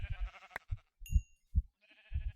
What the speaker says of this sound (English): What is with this meteor and sheep?